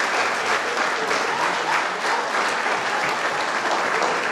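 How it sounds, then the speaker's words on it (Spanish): Steady, dense applause from an audience at a live event where a band has played, sustained throughout at close range with no talk over it. "También pido un aplauso para estos genios también."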